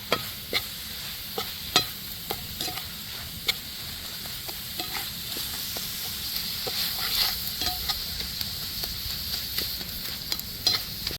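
A spoon stirs a sticky coconut filling with sugar and milk powder in a pan, repeated light scrapes and taps over a soft, constant sizzle.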